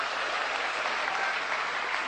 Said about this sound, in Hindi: एक बार जोरदार तालियां शांति के लिए